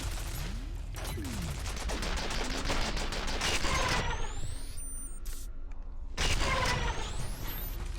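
Particle rifle fire in the game F.E.A.R., dense rapid mechanical crackling bursts with sweeping whines, loud and continuous with a brief lull before firing resumes.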